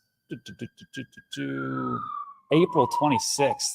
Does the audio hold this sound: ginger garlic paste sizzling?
no